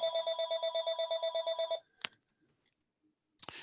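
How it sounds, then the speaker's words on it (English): A landline telephone rings in a steady run of rapid electronic trills for under two seconds, loud and close, then stops; a couple of brief clicks follow in the quiet. "I just had a landline was ringing"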